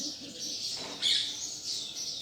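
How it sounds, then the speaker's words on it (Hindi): Small birds chirp softly in the distance, a few brief high tweets against quiet outdoor background. "जैसे ये चिड़ियों की आवाज़।"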